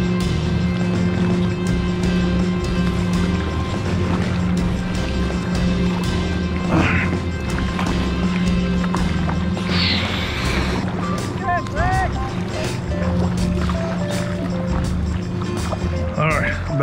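Waves slap and splash against a small inflatable boat on open water, a steady churning wash with occasional louder hits, while people talk and call out over it throughout.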